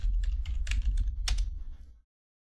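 Someone types a login password on a computer keyboard: a quick burst of close, crisp keystroke clicks lasting about two seconds, followed by silence.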